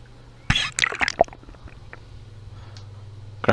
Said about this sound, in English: there's the water running out the other side